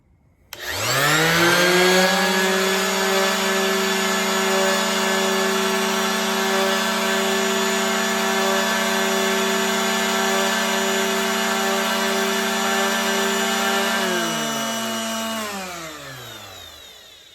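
An orbital sander and a sheet sander run together: a steady, loud electric motor whine with layered humming tones, winding down smoothly as both tools are switched off near the end.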